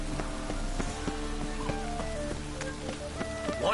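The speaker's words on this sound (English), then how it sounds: "It just rains and rains." Steady rain pours in the Witcher 3: Wild Hunt game world, a constant wash of falling water with scattered drip-like ticks and faint background tones running through the whole stretch.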